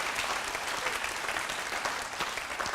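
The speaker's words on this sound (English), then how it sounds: "You can clap for that too." An audience claps steadily at a public health talk on austerity and inequality, a dense, even patter of many hands filling the space without pause, fairly soft overall and with no voices over it.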